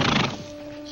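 A brief, loud horse whinny, trailing off within a second.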